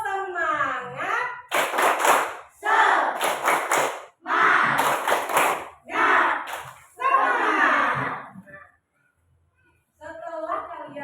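A fourth-grade class at an elementary school claps in rhythmic bursts while the children chant loudly together, with short pauses between the rounds.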